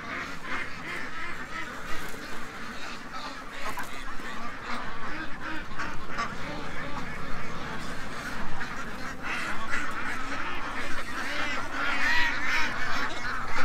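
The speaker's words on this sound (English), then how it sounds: "Relax, ducks." A flock of ducks and geese keeps up a dense, continuous chorus of quacks and honks, loud and close, with a faint voice underneath.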